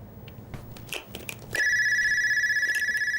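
After a second and a half of rustling and small handling noises indoors, a telephone begins ringing loudly with a steady electronic trill that pulses continuously to the end.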